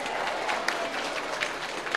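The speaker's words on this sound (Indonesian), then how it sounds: "tepuk tangan disit kok." An audience at a large Islamic study gathering in Cilacap gives a short burst of clapping, brisk and uneven with a few sharper claps standing out, no voices over it.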